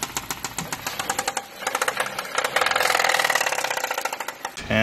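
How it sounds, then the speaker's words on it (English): A car engine with a knocking fault runs nearby, giving a rapid, steady metallic ticking and rattling rhythm over a rough, mid-pitched engine drone that swells briefly in the middle. "Engine Knock"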